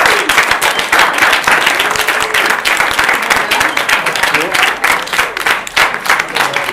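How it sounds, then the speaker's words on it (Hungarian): An audience at a church Sunday service gives a loud round of applause, crisp clapping with some cheering voices over it, continuing briskly throughout. "szeretnék kérni nagy tapsot így egymásnak meg"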